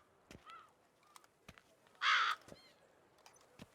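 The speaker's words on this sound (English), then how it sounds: "Oh, birds." Crows caw in The Witcher 3: Wild Hunt video game, a few scattered calls with one loud, harsh caw standing out amid quieter ambient clicks and taps.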